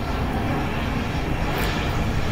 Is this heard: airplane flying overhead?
yes